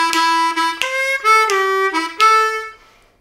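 A harmonica plays lick number 4 from a solo tune, a quick run of bright reedy draw notes and bends in steady eighth notes, close and loud, ending on a ringing held note.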